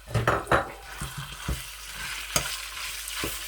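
Minced meat stirred and fried in a pot, half a kilo of keema sizzling steadily while a spoon scrapes and knocks against the pot in irregular strokes, close by with no talking.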